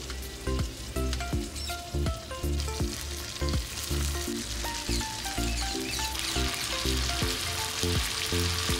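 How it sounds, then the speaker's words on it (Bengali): Pieces of bhetki fish fry lightly in mustard oil, giving a loud, steady close-up sizzle with crackling spatters throughout. "মাছগুলো আমি হালকা ফ্রাই করে নেব এই তেলের মধ্যেই"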